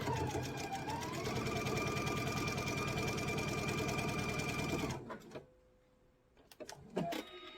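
A sewing machine stitches a table runner diagonally in a fast, even mechanical run for about five seconds, then stops, followed by a few soft clicks and handling noises.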